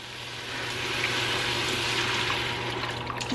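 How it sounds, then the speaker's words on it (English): A quart of beef broth pours into a pressure cooker, a steady close rushing splash of liquid that swells and holds for a few seconds, with no talking. "We're going to add a quart of beef broth."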